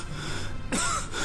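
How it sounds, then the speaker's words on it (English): A character in Final Fantasy XII gives a short cough, a single brief burst over a continuous background of game music and ambience. "it's a convenient cough"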